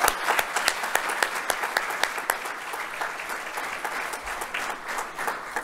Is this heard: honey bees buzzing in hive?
no